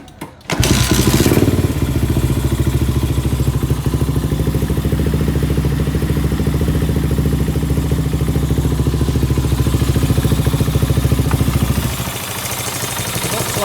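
A Yamaha Jupiter MX motorcycle with a new block head and a 30 mm PWK Powerjet carburetor idles steadily after a brief start, giving a close, even, rattling engine note that runs alone.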